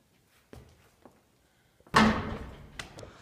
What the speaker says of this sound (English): As you can hear him dribbling really loud in the background.